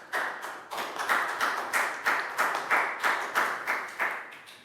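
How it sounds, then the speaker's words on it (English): A group of young students in a Year 3 maths classroom claps in a quick, steady rhythm for several seconds, the sound moderately loud and roomy with no talking over it. "Big round of applause."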